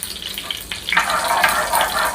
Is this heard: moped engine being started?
no